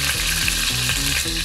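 Meat browning undisturbed in a pan for a fig meat stew gives off a loud, steady, dense sizzle that holds evenly throughout, with a low rumbling layer beneath.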